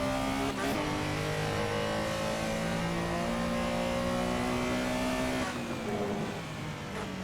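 A Porsche Carrera SR engine in Assetto Corsa at Spa-Francorchamps accelerates hard through the gears, a loud, sustained rising race-car roar with a brief shift dip before easing off at the end.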